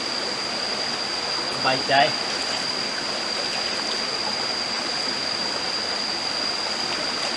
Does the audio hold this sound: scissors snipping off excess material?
no